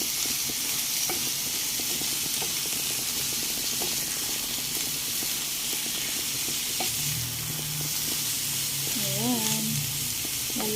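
Bitter melon stir-fried with shrimp paste and egg sizzles steadily in a pan, with repeated scraping strokes as the mix is stirred and a brief clatter near the end.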